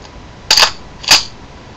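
Two sharp mechanical clacks from a KWA LM4 airsoft rifle firing with an open bolt system, each shot a crisp close snap about half a second apart in an otherwise quiet space.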